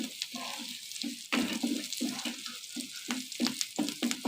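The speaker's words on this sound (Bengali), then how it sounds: "পেঁয়াজ মরিচটা ভালো করে লাল লাল হওয়া লাগবে।" Onions and chillies fry in a pan, stirred repeatedly, with a soft sizzle broken by rhythmic scraping and stirring bursts, close and fairly quiet, no speech.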